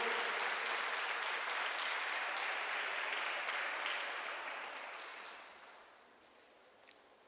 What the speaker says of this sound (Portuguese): Vocês podem saudar com palmas aqui os nossos atores.